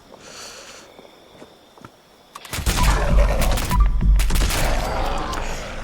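Rapid gunfire from the Quad Crit handmade rifle in a video game bursts in after a quiet stretch, loud and dense, with irregular volleys and thumps running to the end.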